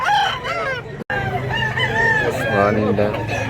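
A rooster offered for sale crows at a Cebuano poultry market, its long wavering call rising close and loud while someone talks over it throughout.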